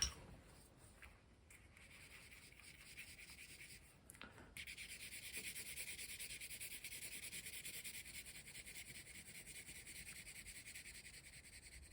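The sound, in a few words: colored pencil shading sky on paper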